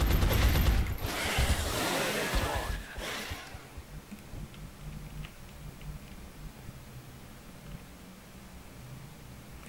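Gunfire in XCOM Enemy Within: a loud, dense burst of shots over the first three seconds, then a quieter stretch with faint scattered clicks, while someone talks throughout.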